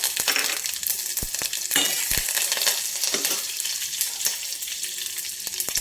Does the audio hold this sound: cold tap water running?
no